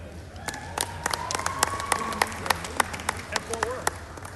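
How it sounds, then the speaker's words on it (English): Scattered applause in a state House legislative chamber at the Capitol, with sharp individual claps over a murmuring room, moderately loud and a little uneven, while voices carry underneath. "let's have a round of applause and thanks to Tarleton Day at the Capitol in Stephenville"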